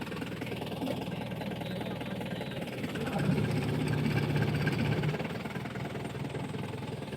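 A car engine idles during a night driving test, a steady low hum that rises briefly as light throttle is applied, then settles back.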